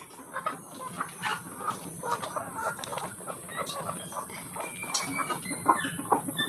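Chicks peep in a dense, high chatter close by, mixed with clucking from fowl on a farm, continuous and busy, with a voice briefly audible among them.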